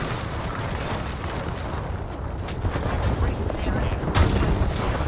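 Heavy, continuous booming blasts from Fuse's explosive attack in the video game Apex Legends, loud and dense with rumbling bursts that swell near the end.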